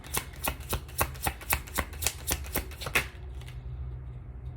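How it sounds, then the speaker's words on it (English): Tarot cards being taken out and handled, a quick series of about a dozen crisp, evenly spaced snaps and flicks like riffling or shuffling, close and fairly loud, then stopping abruptly and leaving quiet room noise. "let me get the cards out"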